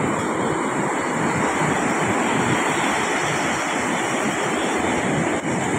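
Ocean waves keep rolling in after a storm, a dense, continuous roar of surf with gusty wind buffeting the microphone, loud and close throughout.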